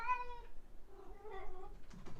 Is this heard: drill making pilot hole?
no